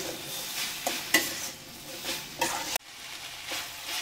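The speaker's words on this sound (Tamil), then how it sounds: "குடமிளகாவும் ரொம்ப வதங்கணும்னு தேவையில்லை. அதுவும் கொஞ்சம் வதங்கினா போதும்." Capsicum sautéing in a pan for a paneer roll stuffing, a steady nearby sizzle with repeated rhythmic stirring scrapes, then a sudden drop to a quieter hiss.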